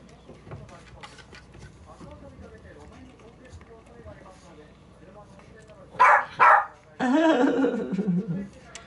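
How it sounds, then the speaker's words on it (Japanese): After quiet background murmuring, a small pet dog gives two sharp barks close by, followed by a louder stretch of voice or yapping. "シャーカワンワン言うた"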